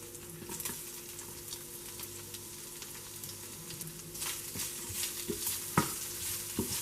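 Chopped onion frying with ginger garlic paste in a pan, a steady close sizzle broken by scraping stirs and a few sharper clinks, with no voices.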